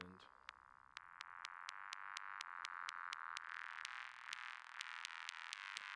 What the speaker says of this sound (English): that's just the high buzz on there